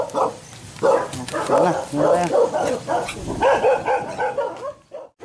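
Several dogs barking in a rural village, fairly close, in repeated overlapping yips and barks under people talking, ending in a quieter pause.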